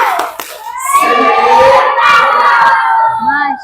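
A classroom of schoolchildren performs a rhythmic clapping chant together, sharp hand claps mixed with children's chanting voices and shouts, loud and lively throughout, ending with a brief teacher's voice.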